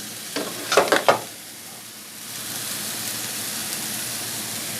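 Butter and spices sizzle in a pot of masoor dal while a spoon stirs, giving a few quick scraping strokes up front and then a steady, soft hiss of frying that carries on alone.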